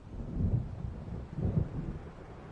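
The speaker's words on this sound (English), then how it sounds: "It seems there's a storm coming." A low thunder rumble from an approaching storm in Alan Wake Remastered rolls in two swelling waves over a steady background of wind and rain, distant and fairly quiet.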